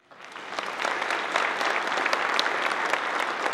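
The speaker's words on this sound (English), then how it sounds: "give them a round of applause as well" An audience bursts into applause, swelling quickly from nothing into dense, steady clapping that holds at full strength, fairly close and without talking.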